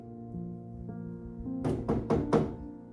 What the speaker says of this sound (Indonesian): Di sela-sela obrolan mereka terdengar suara ketukan dari luar.